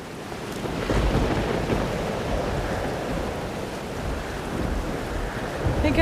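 Stormy weather in Life Is Strange: Double Exposure brings a steady roar of ocean waves and gusting wind, a broad rumbling wash that swells near the start and holds fairly loud throughout.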